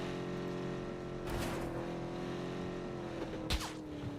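Car driving in a video game, a faint, steady engine hum running throughout, broken by a couple of brief bumps or thuds, with no talk.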